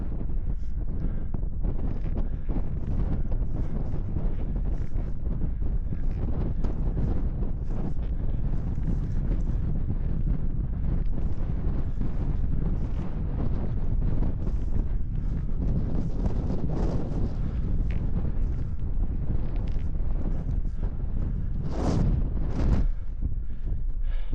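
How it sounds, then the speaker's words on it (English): A summer hillside hike in a strong breeze: wind buffets the microphone in a loud, steady roar that swells and gusts throughout, with no one speaking. "it's a bit of breeze"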